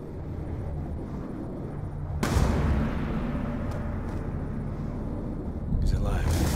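Gunfire from the Call of Duty: Black Ops 2 mission Odysseus: a sharp blast cuts in at once and holds as a loud, rumbling roar, then another burst hits near the end, with voices in the game underneath.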